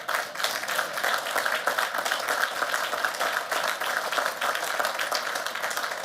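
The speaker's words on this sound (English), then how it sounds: "You can clap for that." Dense, steady audience applause fills the stands at a West Point military academy graduation ceremony, a continuous wash of many hands clapping.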